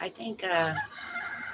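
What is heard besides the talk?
rooster crowing, free-roaming chickens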